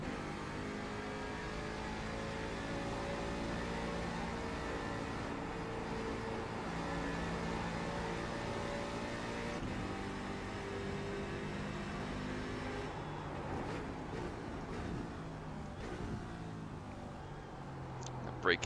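C7 DP race car in iRacing under throttle, a steady loud engine drone with harmonic whine holding nearly constant, shifting slightly near the end.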